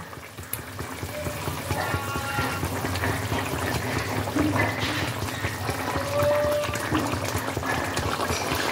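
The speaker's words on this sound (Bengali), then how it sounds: "এবার আমি এর মধ্যে দিয়ে দিচ্ছি ভেজে রাখা মাছগুলো।" Fried tilapia pieces go into a bubbling gravy, giving a soft wet splash and a continuous simmering, gurgling bubble that keeps up throughout at close range.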